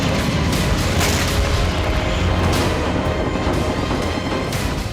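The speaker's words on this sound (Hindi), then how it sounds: "टूटी हुई इमारतों से अचानक रॉकेट प्रहार हो" Rocket strikes echo from ruined buildings in Gaza's Jabalia camp as a dense, continuous roar of booming blasts and rumble, loud and close with no pauses, and no voices.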